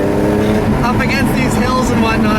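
A manual 2002 BMW M3 E46 drives uphill on winding hill roads, its aftermarket exhaust giving a loud, continuous engine drone with a steady pitch. Someone talks over it throughout.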